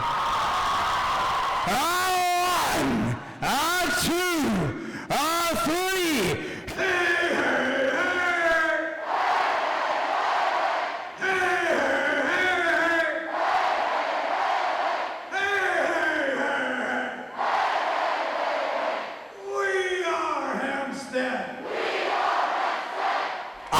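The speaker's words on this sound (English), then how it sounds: "the class with the final hey, hey, hey cheer from Mr. Olson" A high school graduating class at its commencement chants a loud, rhythmic "hey, hey, hey" cheer in repeated bursts, with a crowd shouting and cheering between them.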